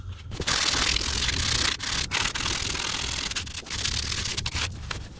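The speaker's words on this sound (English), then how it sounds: "I'm going to use a piece of sandpaper and go over the maiden surfaces." Sandpaper rubbed by hand over the drive shaft mating surfaces on a 2006-2010 BMW X3 E83, a steady close scraping in repeated strokes with short pauses between them.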